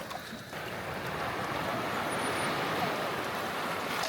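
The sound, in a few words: waves gently lapping against shore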